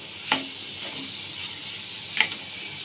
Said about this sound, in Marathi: हलक्या स्वरूपातच आपण फ्राय करून घेणार आहोत.